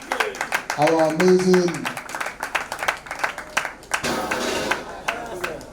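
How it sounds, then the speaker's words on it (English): Guests at a sixtieth birthday celebration clapping in scattered, uneven bursts while someone talks over them, with a brief sung or drawn-out vocal phrase midway and the clapping growing denser toward the end. "A round of applause for him once again."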